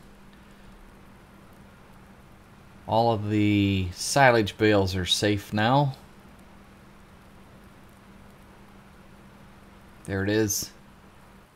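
Rain falls in Farming Simulator 19 as a steady, soft, even hiss throughout, continuing under a voice that speaks in a few bursts.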